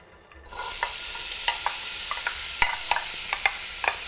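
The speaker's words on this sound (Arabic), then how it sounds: "the chopped onion. We'll saute until soft and golden." Chopped onion goes into hot vegetable oil in a skillet and sautés, starting with a sudden loud sizzle that settles into a steady hiss broken by scattered pops and the scrape of stirring.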